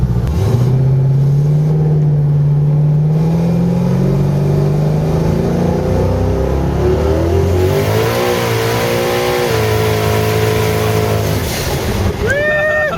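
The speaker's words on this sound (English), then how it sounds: "Look at that fucking burnout, dude." A 1500 HP Camaro built by Nelson Racing Engines roars through a sustained tire burnout on the street, its engine revving loud and close throughout with rising and falling pitch, while voices talk over it.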